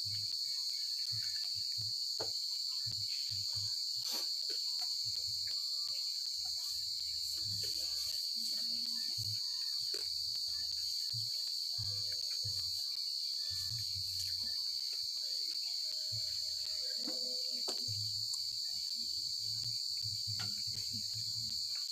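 Crickets chirp in a continuous high, steady drone at night, with soft scattered low thumps and rustles below and no talking.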